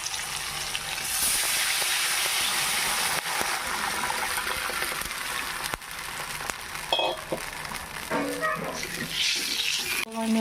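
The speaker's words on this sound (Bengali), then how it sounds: "আমি জলটা দিয়ে দিচ্ছি।" Water poured into a pan of lightly fried spice mix for a Bengali rohu fish curry, giving a steady rushing, splashing pour that runs the full length, with some sizzle and a few clinks near the end.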